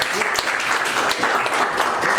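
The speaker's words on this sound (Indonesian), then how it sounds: "beri tepuk tangan buat kelompok yang presentasi." Classroom applause for a student group that has just presented, a steady, moderately loud clatter of many hands clapping together indoors, continuous for a couple of seconds.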